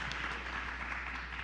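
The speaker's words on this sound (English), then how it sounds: "I'll hold for the applause." Applause from a church congregation at the Unitarian Universalist Church in Fresno, California: a brief, steady wash of clapping at moderate distance, with no voices over it.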